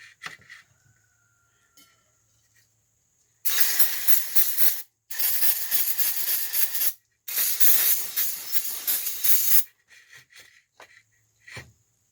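Brake parts cleaner sprays from an aerosol can onto a Holley carburetor from a 1979 Mopar 360, in three long loud hissing bursts with brief gaps, followed by quieter clicks and handling noises.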